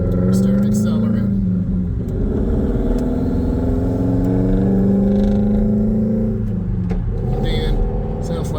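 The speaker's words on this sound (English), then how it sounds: "sounds like his car is not tuned up properly" A car engine rumbles and revs up as the vehicle accelerates from a stop on a road, with a rough, uneven drone, heard beneath a person talking throughout.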